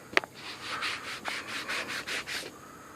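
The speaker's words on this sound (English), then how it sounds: "Now, before I do anything else, I'm going to wipe with a dry rag." A dry rag rubs briskly across a freshly sanded wooden clock, giving a quick knock and then a run of soft, even back-and-forth wiping strokes, close and quiet.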